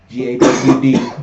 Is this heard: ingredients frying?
no